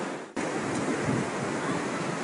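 Sea waves rolling onto the beach at Cha Am, Thailand, a steady broad surf wash with wind rumble after a brief dropout at the start, no voices.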